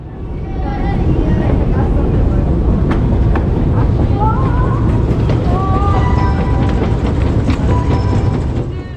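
A Tbilisi metro train rumbles steadily and loudly 60 meters underground, with squealing wheels and metallic clatter over the constant roar.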